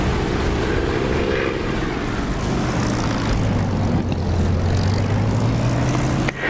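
Aircraft engine in the DCS flight simulator game, a steady loud droning propeller hum with a slowly sliding pitch, continuous throughout without talk.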